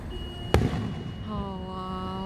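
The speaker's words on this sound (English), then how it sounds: "A free fireworks." A single firework bursts with a sharp loud crack at a summer display, echoing over steady background noise and a faint whistling tone.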